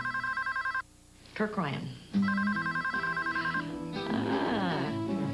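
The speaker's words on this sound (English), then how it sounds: "So I can decide whether I want to pick up the phone or not." A telephone bell rings in repeated bursts in a BellSouth caller ID commercial, trilling pulses broken by a short pause, with someone speaking briefly between rings.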